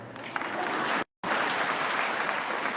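An audience at a political rally claps in a steady, dense burst of applause, briefly cut off midway before resuming.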